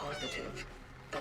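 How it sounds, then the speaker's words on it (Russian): A cat meows in the video game Cronos: The New Dawn, a short drawn-out cry blended with a voice talking over it, and a brief louder burst at the end. "Чем громче ты мяукаешь, тем сильнее ты пытаешься передать срочность."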